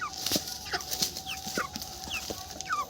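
A broiler chicken clucks in short repeated bursts after being set down from a weighing scale, the calls close and moderately loud against a faint steady hum.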